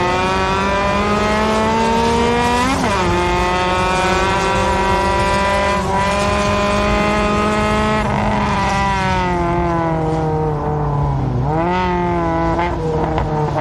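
Stock cars in a NASCAR Division III enduro race, sport class, roaring around the track in a loud, continuous multi-engine drone with rising and falling revs as they pass, close and sustained.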